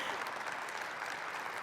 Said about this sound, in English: And yes, Marie, we should clap for that.